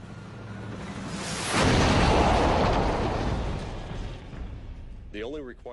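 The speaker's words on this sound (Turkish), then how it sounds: "Bomba serbest bırakıldığında hedefini buluyor ve onu imha ediyor." A laser-guided bomb strikes its target, bursting into a loud, broad roaring blast that swells after a quiet rumble and slowly fades, with a voice talking briefly at the end.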